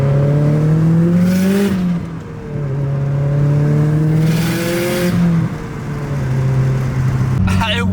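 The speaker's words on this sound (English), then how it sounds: "I love the sound of the wastegate here" A turbocharged Subaru engine drones and revs in two long surges, with a whooshing wastegate release and hiss as the throttle lifts, close by.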